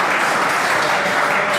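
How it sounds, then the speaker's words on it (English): Warm crowd applause at an AFL football match between Geelong and Essendon as players head off the field, a steady dense wash of clapping from the stands heard without speech. "Warm applause from their faithful as they go back into the rooms."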